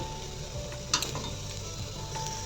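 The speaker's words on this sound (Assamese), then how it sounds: "মছলাখিনি ভাজি হৈ গ'ল।" Turmeric, coriander powder, cumin powder and red chilli powder fry in a pan with a steady, soft sizzle, broken by a brief clatter about a second in.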